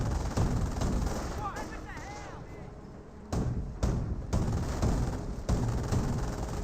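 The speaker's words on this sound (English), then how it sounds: "Rifle squads getting some damage on the Panzer Shrek squad." Rifle squads firing in Company of Heroes, a dense crackle of gunfire with several louder bursts and booms scattered across the clip, heard as a busy battle mix.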